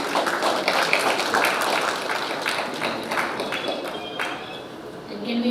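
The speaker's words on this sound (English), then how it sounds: "Can we give him a warm applause?" An audience gives warm applause to welcome a speaker, a continuous wash of many hands clapping at an even, fairly loud level that eases a little toward the close.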